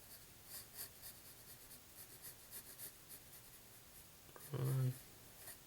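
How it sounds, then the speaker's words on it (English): A pencil draws a kid-version Naruto cartoon on paper with soft, repeated scratching strokes, faint and close, with a brief louder rustle near the end. "Now I'm drawing the kid version of Naruto"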